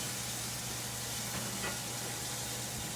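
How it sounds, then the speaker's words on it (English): Sliced mushrooms and onions fry in a pan with a soft, continuous, even sizzle and hiss throughout. "As you can see, starting to fry up nice. Mushrooms, onions."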